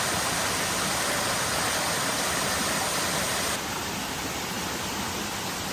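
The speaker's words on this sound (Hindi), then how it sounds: "तो वहाँ पर ऊपर वाटरफॉल है," Continuous broadband rush of a waterfall in dense forest at Bhimashankar, Maharashtra, steady and loud across the whole clip, dropping slightly in level near the end, with no voices.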